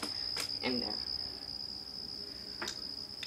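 A cricket trapped inside a wall keeps up a continuous shrill chirp, thin and steady beneath a couple of brief knocks and soft bumps nearby.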